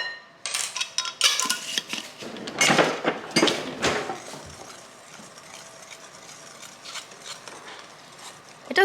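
Metal utensils rattle and scrape against a metal sieve and bowl as baking powder is worked through it, with a cluster of sharp clinks early on that settles into softer, steady rubbing and tapping nearby.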